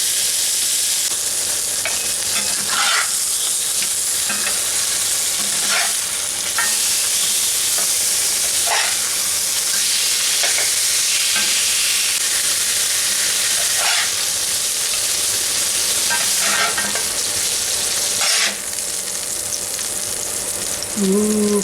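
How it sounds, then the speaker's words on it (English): Pork chops sear in a hot pan for Pennsylvania Dutch pork chops, giving a steady loud sizzle and hiss throughout with occasional soft scrapes and stirring sounds, and no talking. "We're just going to sear these up good both sides, so that they're nice and browned and have a crust"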